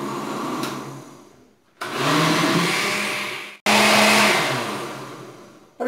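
An electric blender whirs through condensed milk and cream in three loud bursts, each starting abruptly and easing slightly before cutting off, close by with no talk.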